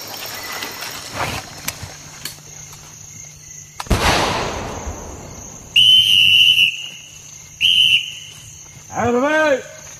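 Sharp, piercing whistle blasts from a French Foreign Legion instructor, three short loud bursts toward the end after a clattering bang, over a faint background hum.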